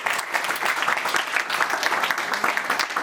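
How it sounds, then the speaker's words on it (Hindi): An audience at a book launch and water discussion event claps loudly to welcome the guests, a steady dense burst of applause with no voices heard. "जोरदार तालियों से आप सभी अतिथियों का स्वागत"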